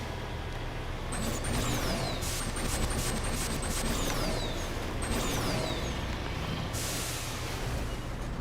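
Turret gunfire in Mass Effect rattles on steadily in dense rapid bursts over a constant heavy background roar, with occasional sweeping whines passing through.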